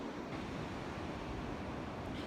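Wind and surf at a beach, a steady broadband rush of breaking waves and gusting air buffeting the microphone, continuous and fairly loud with no voices.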